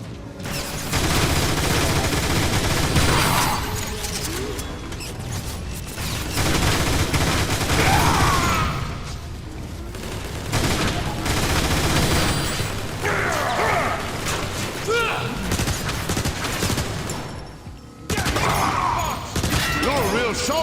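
In the game Transformers War for Cybertron, dense bursts of gunfire and clanking mechanical noises keep going almost without a break, with voices talking over the shooting.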